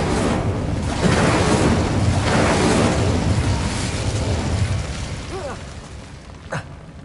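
Fire spells Confringo and Incendio burst in the Hogwarts Legacy video game, a sustained roaring, rumbling blast with surging swells across the first seconds, then a fading rush with a brief sharp crack near the end.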